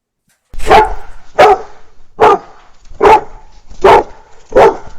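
AI-generated dog barking from Meta MusicGen: six loud, evenly spaced barks about every 0.8 seconds, close and alone, with a faint rustle between them.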